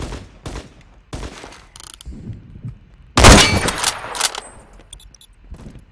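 A sharp, loud rifle crack rings out in the Roblox video game amid scattered clicks and lighter game noises, followed by a decaying tail and smaller impacts.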